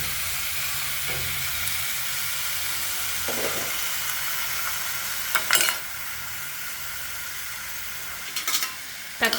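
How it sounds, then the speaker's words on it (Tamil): Tomatoes sauté with rock salt in a pan, giving a steady, even sizzle with a few short scraping stirs breaking through now and then. "தக்காளி சீக்கிரமாக வதக்கிறதுக்கு கொஞ்சம் உப்பு சேர்த்துட்டு, நம்ம கல்லுப்பு சேர்த்துட்டு வதக்குறோம்"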